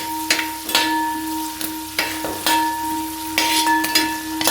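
Curry leaves crackle and sizzle in hot oil while yam pickle is made, with a steady frying hiss broken by several sharp clinks and scrapes of a utensil against the pan.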